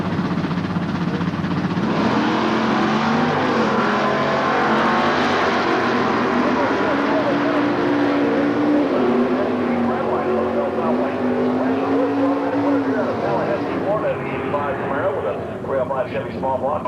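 A drag race car with a 446 Dodge engine combination runs loudly and steadily at an NHRA Super Stock event in Gainesville, its engine roaring continuously with shifting pitch and fading slightly near the end, with a voice mixed in.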